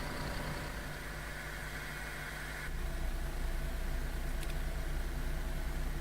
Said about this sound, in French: voilà le bruit de compresseur les amis